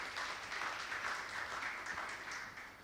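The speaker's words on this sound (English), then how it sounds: "Give her a big round of applause to Prof." An audience at an academic event gives a round of applause, steady distant clapping that stays faint and even throughout.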